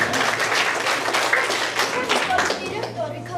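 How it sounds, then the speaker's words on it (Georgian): Warm applause and clapping from a crowd at a school graduation ceremony for a fourth-grade class, steady and dense throughout, with voices and chatter mixed in underneath. "ხურვალი აპლოდისმენტები მიგრეოთ ეს ვიდეოისი"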